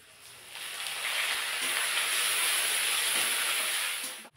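Ginger garlic paste hitting hot oil over fried onions in a frying pan while cooking ghugni, a loud steady hissing sizzle that swells in after half a second and holds before cutting off abruptly.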